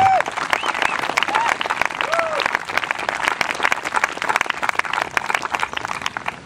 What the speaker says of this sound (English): So I think they need a round of applause.